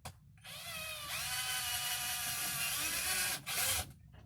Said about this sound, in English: Get me a little pilot hole in the middle of each of these little dots.